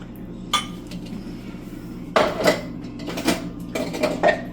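Pans clink and clatter in a home kitchen during cranberry relish preparation, with a few sharp metallic knocks and scrapes close by over a low steady hum.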